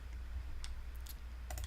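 Sparse, light keystrokes on a computer keyboard during live coding, a few quick clicks and short bursts over a low steady hum.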